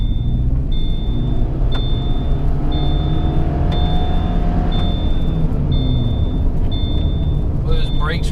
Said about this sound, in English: Those brakes are definitely rusty.